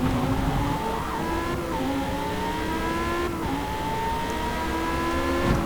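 Lamborghini Huracán race car in Forza Motorsport roaring steadily around a circuit, engine pitch rising and dropping through gear changes, loud and continuous with no talk.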